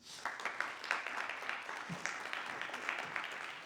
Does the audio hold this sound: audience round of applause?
yes